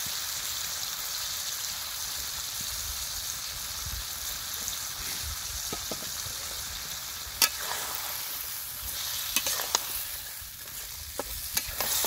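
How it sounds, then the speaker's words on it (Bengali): Chicken pieces and potatoes frying in a spice paste in a pan, a steady close sizzle with soft stirring and a few sharp clinks of a utensil, no talking. "এখন দিয়ে দিব কেটে ধুয়ে রাখা মাংস আর আলু।"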